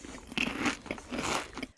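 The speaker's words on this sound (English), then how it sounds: "here's some things that John Denver is chewing on" A dog chews on a puppy chew, giving close, repeated crunching bites and crackles in an uneven rhythm with no talking.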